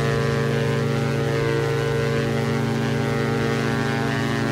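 Diamond DA-62 twin propeller plane in X-Plane 11 departing slowly, a loud steady droning engine and prop hum with strong tonal layers, constant and close throughout.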